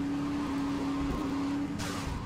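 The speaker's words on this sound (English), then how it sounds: "these cars are like really, really loud" Engine noise from cars in the video game Grand Theft Auto Vice City, a steady loud motor hum with a sustained tonal drone, briefly joined by a hissing burst near the end.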